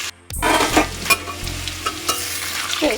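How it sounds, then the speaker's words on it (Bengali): Potatoes coated in turmeric and salt frying in a little oil in a wok: after a brief silence a close sizzle starts, punctuated by a few sharp stirring scrapes and clinks. "একটু আলুর উপরে হলুদ আর লবণ দিয়ে আলুটাকে আমি ভেজে নেব প্রথমে"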